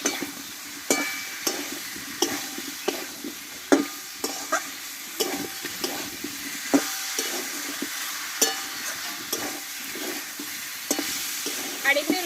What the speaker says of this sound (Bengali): এইবার এখানে আলু পটলটা আমি কষে রাখা দিয়ে দেবো এই মশলার সঙ্গে একটু ভালোভাবে কষিয়ে নেবো